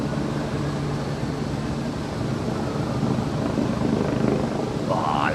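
Steady low rotor drone of a helicopter flying overhead during the Queen's Platinum Jubilee flypast in 2022, holding at a constant level throughout with some faint voice-like sounds mixed in.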